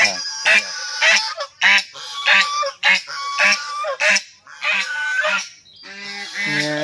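Two geese honk repeatedly in loud, close calls on a rural road where firewood is being hauled, the honks coming in quick uneven bursts with no talk over them.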